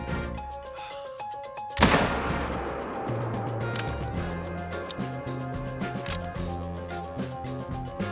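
A single loud rifle gunshot in the hunting game theHunter: Call of the Wild at Layton Lakes, a sharp close crack with a ringing tail over background game music.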